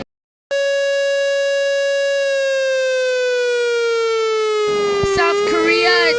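After a brief silence, a loud, steady emergency alert system alarm tone sounds and holds for several seconds, a harsh electronic drone that slowly sinks in pitch before a voice starts talking over it.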